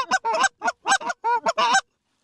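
A run of nasal, honking duck calls in a duck-hunting video game, loud and close, in quick choppy bursts before falling silent.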